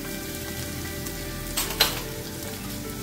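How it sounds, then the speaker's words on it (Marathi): Ivy gourd sautés in a pan with turmeric, giving a steady soft sizzle and a couple of brief clatters from stirring partway through. No voices are heard. "थोडं 2 मिनिटं परतून घेऊया।"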